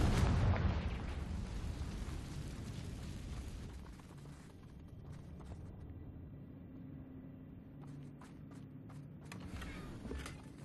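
A Confringo spell explodes in Hogwarts Legacy on the Switch 2: a loud, dense blast in the first second decays into a long rumbling tail, with a few soft clicks and taps near the end.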